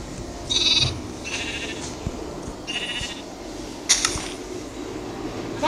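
Two or three faint sheep bleats from a short distance, spaced apart, over a steady background hum with a few soft clicks.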